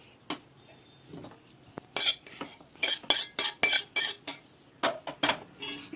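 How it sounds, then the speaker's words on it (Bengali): Cooked potato, brinjal and long bean curry scraped and tipped from a pan into another vessel, a run of sharp metallic spoon clinks and scrapes in irregular bursts, close and fairly loud. "এবারে অন্য একটা পাত্রের মধ্যে ঢেলে নেবো"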